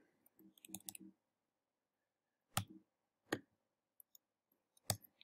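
Sharp computer keyboard clicks in a few short bursts, with isolated taps scattered between them during a Python coding session, close and fairly quiet with no speech.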